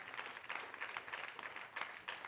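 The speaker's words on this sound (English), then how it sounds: "Yeah, you can clap." A church congregation applauds softly and continuously, the clapping sounding distant and fairly faint, with no speech over it.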